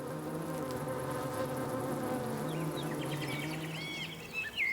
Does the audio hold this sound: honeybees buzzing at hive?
yes